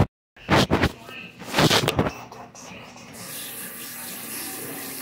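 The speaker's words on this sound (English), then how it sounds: "let me just wash my hands while y'all watch" Water running from a tap while hands are washed: a steady, moderately loud splashing stream in the second half, following a few louder bursts of noise, with a person talking nearby.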